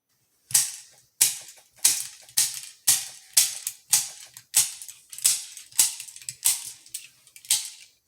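Rounds are pressed one after another into a Springfield XD-M Elite pistol magazine, giving a steady series of about a dozen sharp metallic clicks at an even rhythm, close up and alone.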